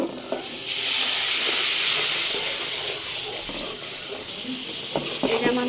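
Water poured onto hot fried spice paste with turmeric, chili powder and salt erupts in a loud hiss that starts abruptly, holds for a few seconds, then eases into a bubbling simmer, with a faint voice near the end.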